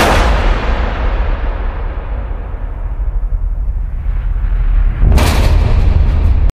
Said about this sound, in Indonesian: langsung mengheadshot Puad sampai Puad pun modar begitu saja.